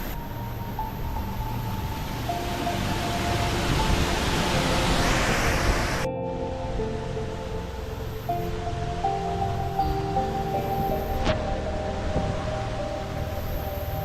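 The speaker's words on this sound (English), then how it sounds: "Quite windy." Steady broadband rushing noise dominates, strong wind near a waterfall in the Issaquah Alps, Washington, mixed with roaring water, with gusty swells and a sudden shift partway through.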